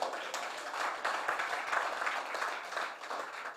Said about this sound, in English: You can give me a round of applause